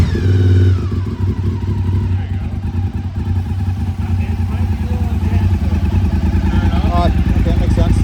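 A motorcycle engine with an aftermarket exhaust revs loudly with a rough, throaty exhaust rumble, rising and falling, while people talk over it.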